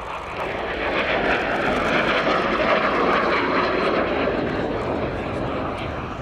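A P-51 Mustang flying at the Yeovilton Air Day airshow gives a loud, steady engine roar that holds throughout, close and unbroken.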